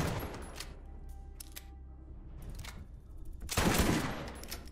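A double-barrel shotgun in the Borderlands video game firing both shells at once, a few sharp blasts with a big, loud discharge near the end.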